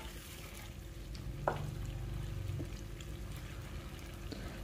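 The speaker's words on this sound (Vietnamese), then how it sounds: "mình sẽ cho nước dừa vào" Fresh coconut water poured into a pot of stir-fried ingredients for a Thai hot pot with giant freshwater prawns, a steady close liquid splash and trickle over faint sizzling for several seconds.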